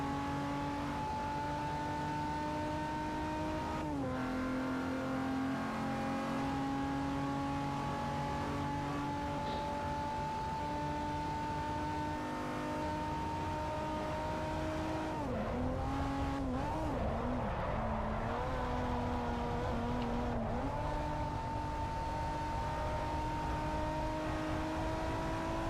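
A race car engine in Forza Motorsport 4 drones steadily at high revs throughout, with brief shifts and dips in pitch, a few tire squeals in the middle stretch, loud and continuous with no voices.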